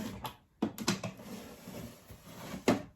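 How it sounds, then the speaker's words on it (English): A drawer of a makeup storage unit is pulled open, giving a few quick wooden knocks and a sliding scrape, followed by a louder thump near the end, close and fairly loud in a quiet room. "So let's get into my first drawer,"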